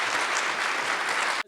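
Audience applause for a lecturer at a diversity lecture, a dense steady wash of many hands clapping that fills the room, then cuts off abruptly near the end.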